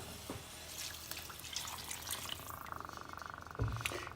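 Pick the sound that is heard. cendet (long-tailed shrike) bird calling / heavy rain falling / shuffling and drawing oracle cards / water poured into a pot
water poured into a pot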